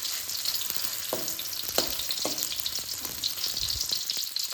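Bakso meatballs frying in hot oil give a steady, dense sizzle throughout, with a few soft clacks of a utensil stirring them in the pan.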